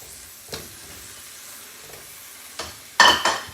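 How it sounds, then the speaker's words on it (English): Orange wedges in a hot pan, a soft steady sizzle with a few sharp scraping strokes near the end as a utensil drags the browned bits around. "we're just going to kind of scrape it around and get all those brown bits up"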